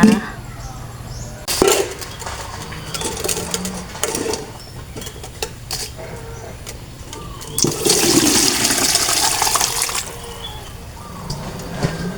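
Soaking water being poured off rice in a home kitchen while making fermented fish, a splashing gush rising loudly for a couple of seconds amid handling clatter and quiet background noise.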